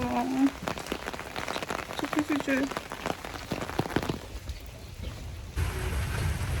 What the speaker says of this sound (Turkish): İnanılmaz yağmur yağıyor şu an.